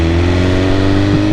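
A truck engine drones steadily while driving, loud and close, with a constant low hum and a slight rise in revs, no voices.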